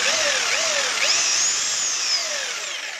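A Parkside PSBM 750 B3 hammer drill runs in plain drill mode, giving a loud, close, continuous high motor whine with rising and falling pitch sweeps for about three seconds.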